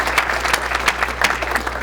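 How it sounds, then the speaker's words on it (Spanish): An audience at a university computing and technology event claps steadily to welcome a speaker, even crowd applause with a low hum underneath. "Un aplauso, por favor, bienvenido."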